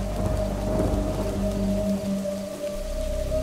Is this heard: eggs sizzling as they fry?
no